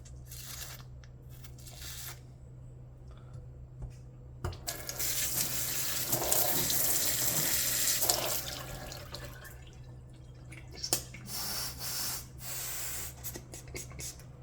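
A Delta touch faucet after a flow fix, water running steadily in a hissing stream that swells louder for several seconds in the middle, then settles with small splashes and drips.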